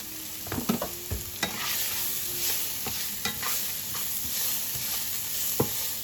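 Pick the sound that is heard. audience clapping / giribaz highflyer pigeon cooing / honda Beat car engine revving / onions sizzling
onions sizzling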